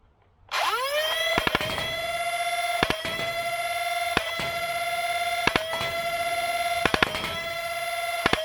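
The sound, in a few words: Hyperfire foam blaster firing rapidly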